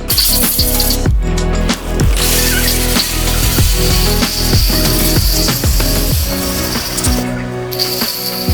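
A loud, close spray of water hits the dirty fins of an AC outdoor condenser unit, a constant rushing hiss with rattling, rhythmic metallic clatter as the jet moves across the unit.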